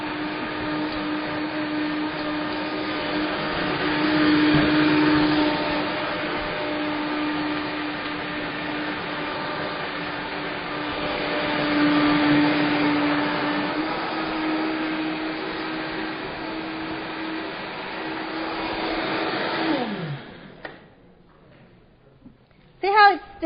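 A steady, loud blender whir runs for about twenty seconds with a constant motor hum, then cuts off abruptly, leaving a few faint clinks.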